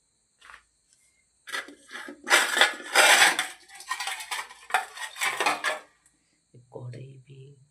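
Cutlery, pots and pans clatter and scrape while dishes are being washed, in several loud close bursts with brief pauses, followed at the end by a voice speaking.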